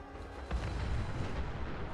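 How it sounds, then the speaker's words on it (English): Heavy weapons gunfire from a fight with a horde of ghouls in the video game Fallout 4, a continuous dense rumble of booming shots that swells at the half-second mark and keeps going without talk. "that's pretty heavy weapons fire"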